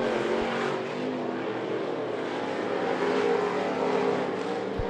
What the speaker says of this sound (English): white flag in the air for Bobby Doss as we enter the final lap of this A-Hobby Sportsman Heat Race.